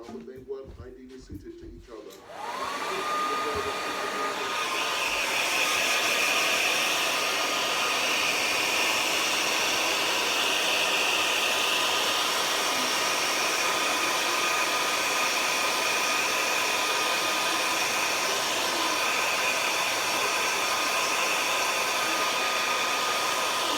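A hair dryer starts up after a brief rustle and keeps blowing steadily with a loud, even whoosh and a high whine the whole time.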